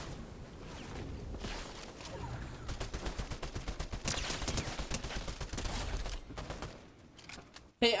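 Distant bursts of gunfire in the Fortnite video game, with crackling shots and a busy background through the middle and a sharp loud hit near the end.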